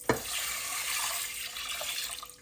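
About 800 ml of water pours steadily from a tap over lentils set to soak, a close, continuous splashing hiss for a couple of seconds with no voices.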